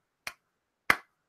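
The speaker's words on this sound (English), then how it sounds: "It was the casters clapping in the background." Two sharp, isolated claps about two-thirds of a second apart from esports casters in the background, crisp and dry against silence.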